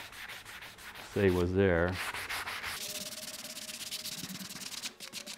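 Rubbing through a black oak furniture finish down to bare wood at the edges, a steady rhythmic scrubbing abrasion running close and continuous, with a brief spoken phrase over it.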